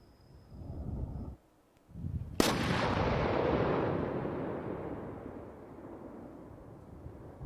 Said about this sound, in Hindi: दक्षिणी लेबनान में इजराइल की बड़ी एयर स्ट्राइक और एयर स्ट्राइक के बीच ये तस्वीर और ये आवाज एक बार बहुत ध्यान से सुनिएगा।